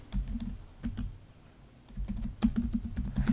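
Typing on a computer keyboard, a quick close run of light key clicks in two bursts around a short pause, with no voices.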